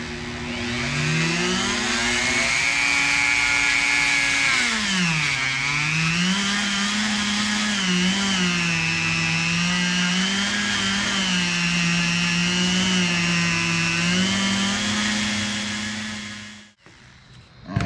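Power tool polishing a Nissan 240SX KA24DE cylinder head combustion chamber with white compound, a loud steady high-pitched whine that dips and wavers in pitch under load, running continuously before cutting off near the end.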